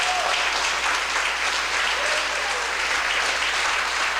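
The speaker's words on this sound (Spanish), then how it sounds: "Esos aplausos no me gustan." Dense, steady applause from a church congregation fills the whole stretch at a constant loud level, a continuous wash of many hands with no break.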